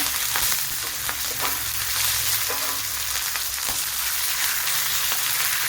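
Curry leaves crackle in hot oil for an egg dish, a loud, constant frying hiss with faint scattered pops and light stirring knocks throughout.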